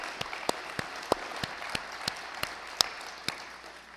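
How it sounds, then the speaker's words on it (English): Scattered, sparse applause for school cooks at an orientation, heard as about a dozen separate sharp claps spaced irregularly over a quiet room, with no continuous crowd roar. "let's give them all a round of applause"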